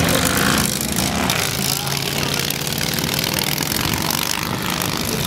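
Vintage motorcycles with sidecars launch at a drag race, a loud, steady engine roar filling the whole stretch with heavy low rumble and crowd noise, speech faintly mixed in.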